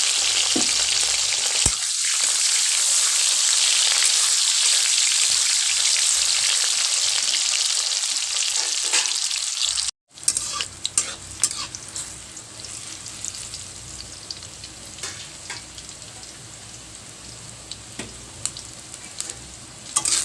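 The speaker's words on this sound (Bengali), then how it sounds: "কড়াইয়ে তেল গরম করতে দিয়ে দিয়েছি, তেল গরম হয়ে গেছে। এবার সবজিগুলো একে একে ভেজে নেব।" Vegetables for Bengali dudh sukto, bitter gourd among them, go one by one into hot oil in a kadai, raising a loud, steady sizzle that breaks off abruptly, then returns as quieter crackling frying with stirring scrapes.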